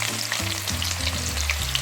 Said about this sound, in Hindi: ये बाकी जो तेल है इसमें मैं तड़का लगाने लगी हूँ